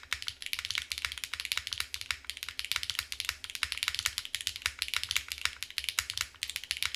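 Rapid typing on a Mode SixtyFive mechanical keyboard, a steady stream of crisp, fairly loud clacky keystrokes close up, with no talking.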